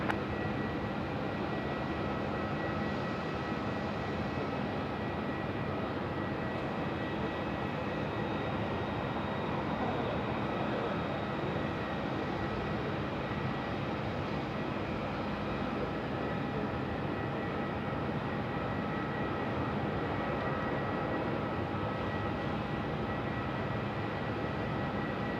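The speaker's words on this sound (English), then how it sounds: "Qantas 430, 34 cleared for takeoff." A Qantas airliner takes off from runway 34 at Melbourne in daylight, a steady, broad jet roar holding loud and constant throughout with no talk over it.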